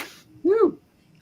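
A single short, sharp sneeze bursts out close by after a brief moment of quiet.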